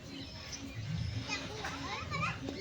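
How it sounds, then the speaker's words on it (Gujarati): Children playing and calling out to each other at a distance, lively overlapping young voices with faint bird chirps in the background. "બે બાજુ છોકરા રમવાનું ચાલુ જ છે"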